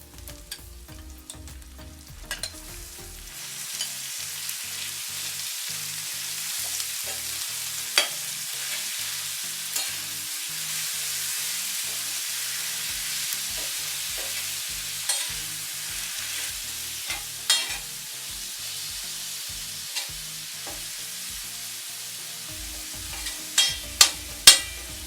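Mutton keema dropped into ginger-garlic paste on a hot tawa, dhaba style: a steady, hissing sizzle with scattered scraping and clinking stirs, louder bursts at the start and end.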